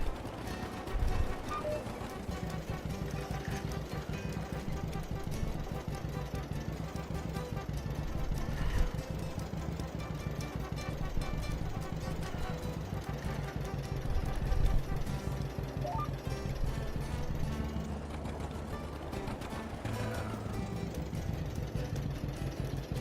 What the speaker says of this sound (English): I like this John Deere Model A. I just love the sound of the tractor.